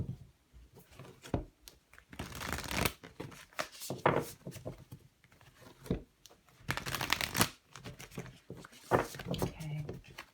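Oracle cards being shuffled for a tarot reading, with repeated riffling and shuffling bursts up close as a voice talks in between.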